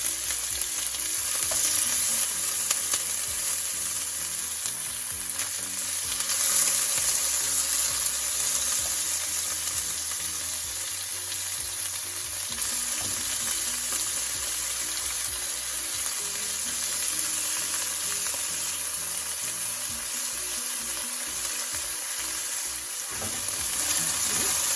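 Pork strips stir-fried in hot oil in a pan, a loud continuous sizzle with steady stirring and scraping layered throughout, close and unbroken.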